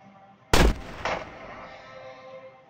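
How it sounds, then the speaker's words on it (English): Sniper rifle shots in the video game Block Fortress, one sharp loud crack followed half a second later by a second softer report, each trailing off into a fading echo. "this is a much better use of the sniper rifle"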